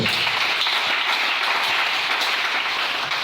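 A church congregation applauding to acclaim the Lord, a steady, full burst of many hands clapping at loud, close level throughout, with no voices standing out above it.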